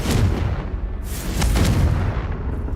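A Confringo fire spell blasts in the video game Hogwarts Legacy, a loud, continuous booming roar with a couple of surging explosive bursts, close and dense, with no talk.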